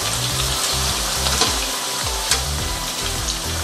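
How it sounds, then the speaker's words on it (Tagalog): Potatoes and carrots frying together in a pan as a first step for beef kaldereta, giving a steady, close, loud sizzle with a continuous crackle and a few brighter pops, no voices. "ipa-fried ko muna ang ating potato and then yung ating carrots"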